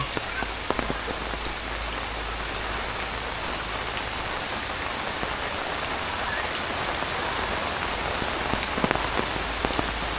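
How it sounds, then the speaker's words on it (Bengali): A downpour of heavy village rain hisses and patters evenly for the whole stretch, with occasional sharper drops standing out and no voices. "কে রে জুড়ে নেমে গেছে বৃষ্টি"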